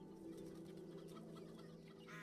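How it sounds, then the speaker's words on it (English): A chicken in the RuneScape video game clucks quietly in short repeated bursts over a steady background of game music, with no talking. "Alright, attack the chicken."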